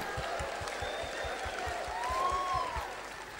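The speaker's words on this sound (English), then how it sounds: "Come on, guys, clap with me." An audience claps along in a steady rhythm, hands striking together about every third of a second under a continuous crowd murmur, in a church or lecture setting; no one speaks over it.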